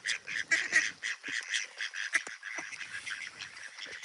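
Ducks squabbling in a brief fight, a burst of harsh overlapping quacks and squawks near the start that settles into scattered calls and rustling, close and moderately loud with no talking.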